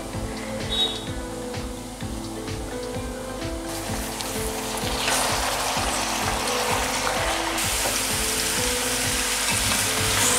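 Steady loud sizzling of chicken frying in a hot pan on high flame, with rhythmic scraping and stirring clatter throughout; the sizzle swells louder midway.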